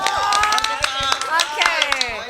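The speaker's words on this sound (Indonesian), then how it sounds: "tepuk tangan dong" A youth-group audience claps their hands in a lively burst, with sharp, uneven claps ringing out close by over a bright, chiming tone and a low rhythmic thump underneath.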